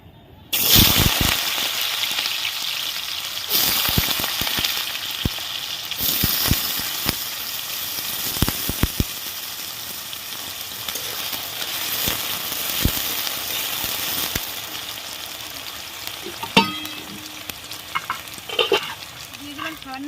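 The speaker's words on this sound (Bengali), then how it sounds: "তেল গরম হয়ে গেছে, এবার আমি আলুটা ভাজার জন্য আলুটা ছেড়ে দিব তেলের মধ্যে।" Potato pieces dropped into hot oil in a wok burst into a loud, crackling sizzle, with sharp pops and scraping stir strokes over a continuous frying hiss, close and without speech.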